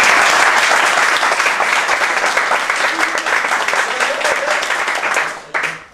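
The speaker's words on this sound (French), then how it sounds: "applaudissements à Atem Ben Arfa." A studio audience applauds for Hatem Ben Arfa on a television talk set, producing loud, dense, sustained clapping that holds steady for several seconds before fading out at the end.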